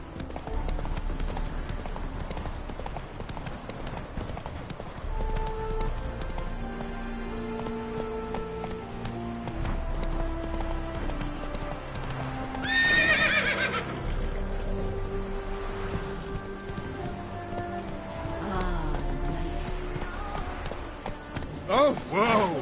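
A horse in a video game clip-clops steadily at a gallop and gives a whinny, with game music playing throughout and a voice speaking now and then.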